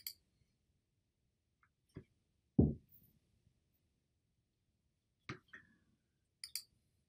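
Sharp computer mouse clicks while working through documents on a PC, heard as about five scattered single clicks spread over several seconds in an otherwise quiet room.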